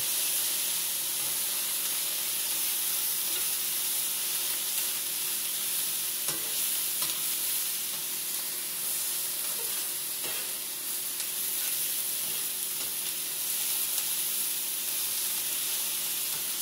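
Rice being stir-fried in a pan for a homemade fried rice gives a steady, close sizzle and hiss, with faint scrapes and stirring knocks scattered through it and no talking.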